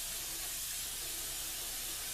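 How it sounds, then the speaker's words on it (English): A steady, faint hiss of cooking spray sprayed onto a pan for about two seconds, with no voices. "you shake up your spray, cooking spray, and spray your pan"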